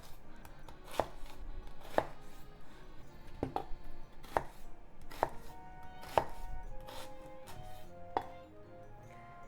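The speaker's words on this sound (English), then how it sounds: "Cut into half and slice this way." Knife slicing peeled food on a cutting board while making a miso pork bowl, about eight crisp, evenly spaced chops roughly one second apart, close and clear.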